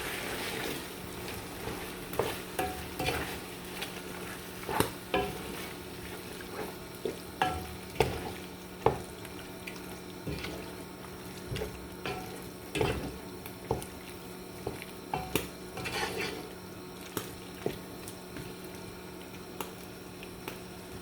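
Chicken pasta stirred in a pan after black pepper and cumin go in, with soft scraping strokes and gentle sizzling at an irregular rhythm, close by and fairly quiet.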